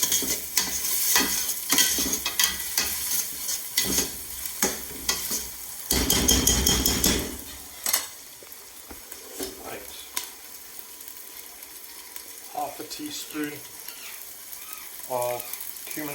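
Thai lime leaves dropped into a hot frying pan, with loud close sizzling and scraping stirring that settles into a quieter steady fry.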